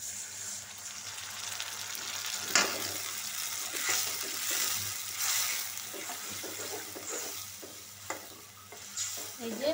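Turmeric and chili powder frying in a pan with a splash of water, a continuous soft sizzle with stirring scrapes and a sharper clatter early on, steady and close.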